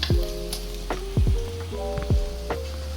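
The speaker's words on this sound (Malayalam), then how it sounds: "ഉപ്പും വിനാഗിരിയും ചേർത്ത് കഴുകി വെച്ചേക്കുന്ന ചിക്കൻ നമുക്ക് ഇട്ട് കൊടുക്കാം" Chicken, washed in salt and vinegar, goes into a hot pan with green chillies for Kerala-style chicken perattu, hissing steadily while a utensil strikes the pan in several ringing knocks.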